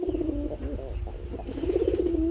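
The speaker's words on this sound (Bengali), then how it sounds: "খুবই সুন্দর ব্ল্যাক কালারের মধ্যে একজোড়া মুখী কবুতর রয়েছে" Black mukhi pigeons at a pigeon market coo close by in repeated rolling, throaty phrases, a low warbling call recurring several times over a steady background murmur.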